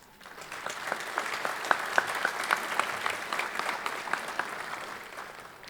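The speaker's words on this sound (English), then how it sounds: "We ask now that you will give yourselves a round of applause for everything that you've done to" An audience at a police academy graduation ceremony breaks into applause that swells quickly, with crisp individual claps standing out from the steady roar before it eases slightly.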